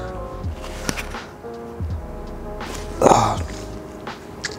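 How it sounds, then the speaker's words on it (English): A person recovering from Nissen fundoplication surgery for GERD lets out a short, low burp about two-thirds through, preceded by quiet breathy and throat sounds in a still room. "I'm able to burp a little bit."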